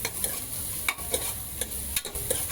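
Spices and sambar masala sautéed in a pan, with rhythmic spoon scrapes and stirring knocks over a close, steady sizzle.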